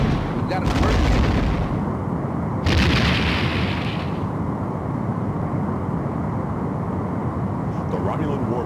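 Space combat from Star Trek: The Next Generation – A Final Unity (1995), a retro PC game: sustained loud rumbling weapon fire and explosions with two sharp hissing bursts, dense and continuous throughout.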